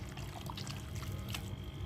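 Water pours into a pan of chicken masala on the gas for a dry sukka dish, a steady close trickle and splash that runs throughout.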